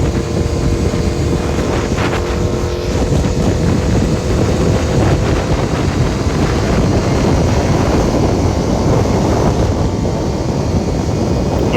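Engine held at raised RPM after a gear downshift on a machine with an 11,500 RPM redline: a loud, steady, roaring drone, heavily buffeted by wind noise, with no talking.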